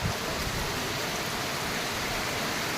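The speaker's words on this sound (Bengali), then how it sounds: "দেখেছো, খুব বৃষ্টি হচ্ছে" A heavy downpour of rain makes a dense, steady hiss that stays even and unbroken throughout, with no voices heard.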